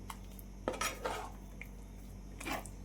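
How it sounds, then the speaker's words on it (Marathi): Besan vadi mixture stirred in a pan over a low flame, with a few faint scattered scrapes and clinks of a utensil against the pan, quiet overall. "आता हे मिश्रण व्यवस्थित मिक्स करू।"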